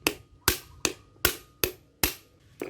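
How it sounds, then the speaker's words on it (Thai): Metal hammer blows drive a bushing onto the motor shaft of an 18-inch Hatari electric fan, seven sharp, evenly spaced taps, close and loud with brief ringing decay, no voices. "จับแล้วก็ตอกเข้าไปเลยนะครับ"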